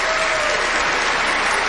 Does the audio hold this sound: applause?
yes